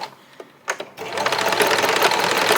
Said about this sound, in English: So I will be sewing along the top here and then all the way down this edge.